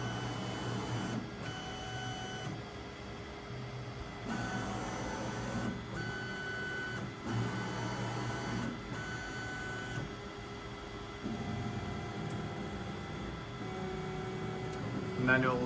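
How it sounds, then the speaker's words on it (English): A ProForge 5 tool-changer 3D printer trams its bed heated to 60 degrees, humming with motor whines and stepping tones that start and stop in regular stretches, with faint talk underneath. "the printer will essentially tram the bed."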